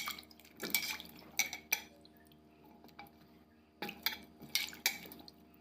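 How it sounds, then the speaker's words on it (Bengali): Cut papaya being rinsed under water, with drips, splashes and clinks of a bowl or pan coming in several short bursts, close by and with no talking. "পেঁপেটা ভালো করে ধুয়ে নিলাম।"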